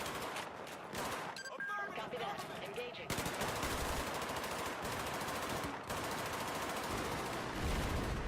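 Battlefield 4 firefight with continuous machine-gun fire and layered gunshots, a dense, loud barrage that surges after a few seconds and keeps up with only brief dips.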